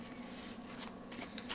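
Cards from a Dungeons and Dragons tarot deck are handled and shuffled close by, giving quick papery flicks and riffles over a short stretch.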